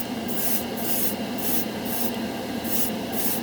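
Mission Model chrome acrylic paint airbrushed unthinned, a steady close hiss of air and spray running continuously with slight periodic pulsing, no voices.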